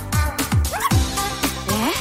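A puppy gives a run of short high yips and whimpers, close and fairly loud, each one sliding in pitch, with no talk over them.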